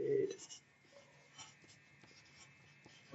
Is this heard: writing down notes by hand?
yes